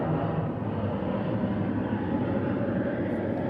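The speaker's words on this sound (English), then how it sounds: "I'm going to let this plane go by." Airplane flying overhead outdoors, a steady broad roar that holds loud and even throughout with no talk over it.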